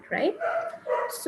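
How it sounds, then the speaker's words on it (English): Dog barking in the background, short yips and barks mixed under a person talking, brief and close. "please excuse the barking at the background."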